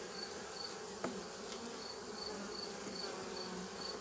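Bees swarm around a beehive where wax has spread everywhere, giving a faint, steady buzzing drone with a soft repeating high hum and an occasional light tap, heard close and quiet without speech.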